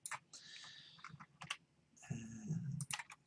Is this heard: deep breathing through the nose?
no